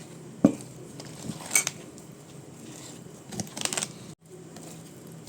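Eggless chocolate chip cookie dough is mixed with flour in a bowl, producing scattered scraping and clinks from the utensil against the bowl, with a soft rustle between strokes.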